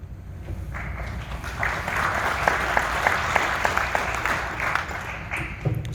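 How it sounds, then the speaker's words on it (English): An audience at an Alberta independence address in Red Deer builds into a slow, rhythmic clap, with evenly spaced, fairly loud claps over murmuring room noise. "Slow clap."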